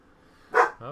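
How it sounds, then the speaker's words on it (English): A dog at home gives a single short, sharp bark, faint and slightly distant, followed by a softer trailing yip. "my dog's barking"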